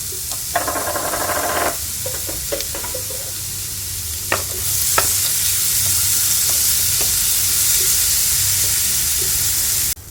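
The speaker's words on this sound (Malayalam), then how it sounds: "നമ്മൾ എടുത്തു വെച്ചിരിക്കുന്ന ക്യാരറ്റും നേന്ത്രപ്പഴവും എല്ലാം കൂടി ഇട്ടൊന്ന് വഴറ്റിയിട്ടാം" Carrots and plantain sauté in hot ghee with a steady, loud sizzle, stirred with scraping strokes early on before the frying hiss settles into a constant, even roar.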